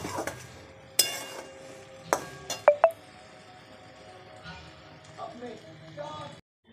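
Clanks and clinks of a cooking pot of banana flower curry being lifted off a stove, several sharp metallic knocks and scrapes in quick succession, then quieter kitchen sounds with someone talking.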